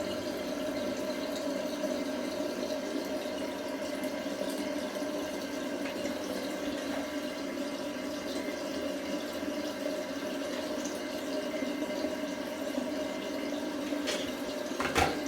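Cold water running steadily from a tap in a home bathroom, a constant soft hiss and rush with no break, fairly faint and close.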